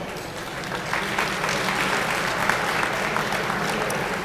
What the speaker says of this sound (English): A round of applause for everyone involved in this wonderful event.